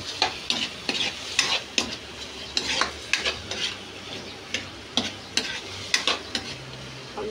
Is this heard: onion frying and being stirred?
yes